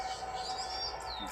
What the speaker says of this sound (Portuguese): muitos tipos de pássaros diferentes cantando